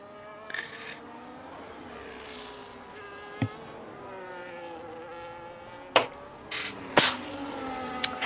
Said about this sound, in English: Fucking mosquito.